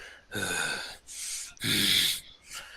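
A game master imitates deep, demonic breathing with his voice: four long, rasping, hoarse breaths in and out, close and loud, the third the longest and harshest.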